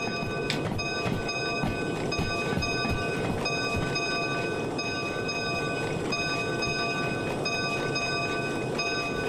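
An S282 steam locomotive hauls a heavy train while shunting in the Derail Valley game, giving a steady rumbling rail roar with faint clanks and a constant tonal whine throughout.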